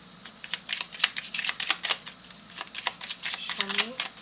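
A deck of shadow cards being shuffled by hand for a card reading, with a rapid, uneven run of close, crisp flutters and taps and a brief voiced murmur near the end.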